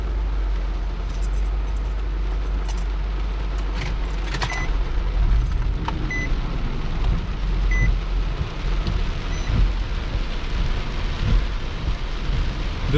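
Heavy rain from tropical storm remnants hisses steadily while low thunder rumbles beneath it, swelling in the middle and later stretches, and a few sharp nearby clicks and taps cut through the downpour.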